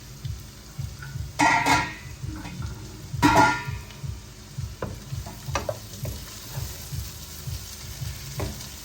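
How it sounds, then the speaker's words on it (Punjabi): Cut potatoes fry in a pan over a medium flame, sizzling close by, while a utensil scrapes and stirs them in a quick, repeated rhythm, with a few louder bursts of sizzle. "ਆਲੂਆਂ ਨੂੰ ਮੀਡੀਅਮ ਫਲੇਮ ਤੇ 5 ਮਿੰਟ ਤੱਕ ਆਪਾਂ ਇਹਨਾਂ ਨੂੰ ਫਰਾਈ ਕਰਾਂਗੇ ਭੁੰਨਾਂਗੇ"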